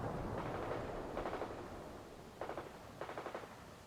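Mortar fire in the real-time strategy game World in Conflict during a Soviet assault: two short bursts of rapid rhythmic thumps over a low rumbling battlefield background, fairly faint.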